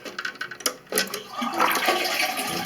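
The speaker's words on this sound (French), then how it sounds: "le plus simple, c'est quand vous avez vidé la chasse d'eau complètement" A household toilet flushes and empties its cistern, a few clicks of the handle followed by a close rushing gush of water that builds and keeps running.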